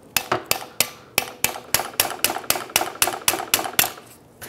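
A hammer strikes metal in a quick series of about fifteen sharp, close taps, knocking a pick into place to lock a snap ring on the front wheel hub of a 2003–2008 Toyota Corolla during a wheel bearing replacement.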